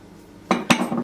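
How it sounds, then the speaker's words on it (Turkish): A metal spoon is pulled out of a bowl of soft apple cookie dough and clinks twice against the bowl's side, two sharp close knocks on a quiet kitchen background. "Artık kaşığı çıkartıyorum."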